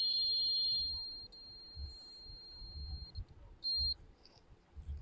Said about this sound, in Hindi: देखिए यहाँ पे देखिए बीप का साउंड आ रहा है